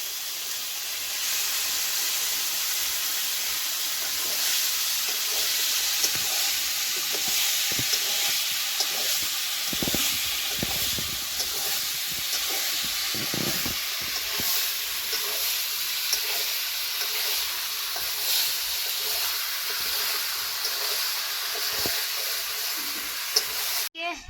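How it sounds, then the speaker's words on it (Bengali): Meat frying and sizzling in spiced oil with turmeric, salt and chilli powder, a steady loud hiss broken by repeated clattering stirs throughout, with occasional faint talk in the background. "মশলা থেকে তেলটা ছেড়ে দিয়েছে, দিয়ে দেবো এখন মাংসটা।"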